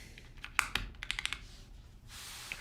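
Quick clacking keystrokes on a custom mechanical keyboard, a short irregular burst of crisp close-up taps followed by a softer hiss.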